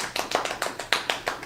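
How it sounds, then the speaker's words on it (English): A small group applauds briefly during a podcast shout-out, giving a short burst of about ten quick, close claps. "give my man's a round of applause"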